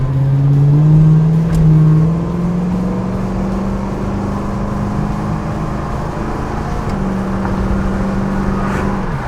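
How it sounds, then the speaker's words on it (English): A 1979 Pontiac Trans Am with Flowmaster mufflers, its engine rumbling close and loud. It swells in a short rev early on, then settles into a sustained drone with a slight pitch change near the end. "with these Flowmaster mufflers, you still get the noise and the experience of a muscle car"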